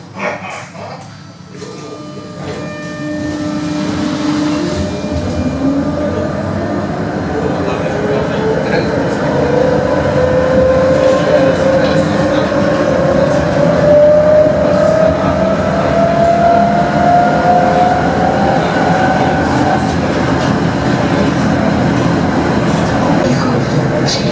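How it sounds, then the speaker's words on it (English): A Tatra K-series tram with a classic DC pulsing drive runs along the street, its motor whine climbing steadily in pitch as it accelerates over a continuous rumble of wheels and rail. "These have regular style DC pulsing drives and have a very classic sound to them."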